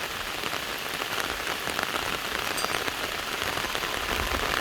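Steady, dense rain pattering on a surface, constant and close, with no voices.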